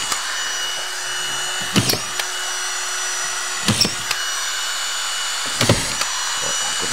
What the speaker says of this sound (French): Alors je vais mettre les vis au même endroit pour rien percer.